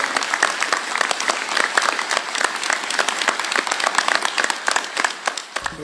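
Loud applause from an audience at the end of a yoga class, dense rapid clapping sustained for several seconds before thinning slightly at the end.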